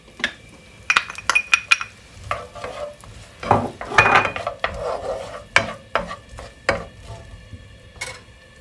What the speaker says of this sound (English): My onions first go in